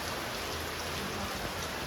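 Heavy rain falls in a steady, dense, unbroken roar that fills the whole short stretch, with no voices over it.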